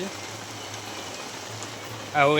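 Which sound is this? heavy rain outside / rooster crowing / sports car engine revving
heavy rain outside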